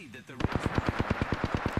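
A burst of evenly spaced, punchy shots from an Eva-8 shotgun in Apex Legends fires in quick succession, loud and close, following a brief moment of speech.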